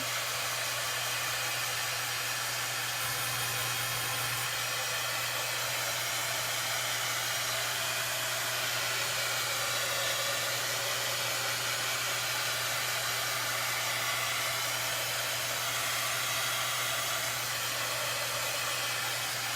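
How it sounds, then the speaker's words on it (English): A handheld heat tool blows steadily over freshly painted chalkboard paint on a hot cocoa bar sign, a continuous close, loud airy whoosh with a low motor hum that runs unbroken throughout. "I'm going to grab my handy dandy little heat tool here and I'm going to get this all dried up."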